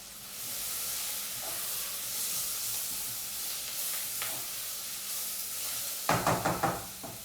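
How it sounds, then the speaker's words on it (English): Spices and crushed garlic sizzle gently in a soup pot for spiced pumpkin soup, a steady low hiss that ends in a few quick, close knocks and scrapes of a spoon being stirred through. "give it a bit of a stir"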